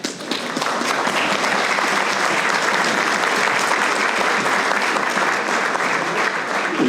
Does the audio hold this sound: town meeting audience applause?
yes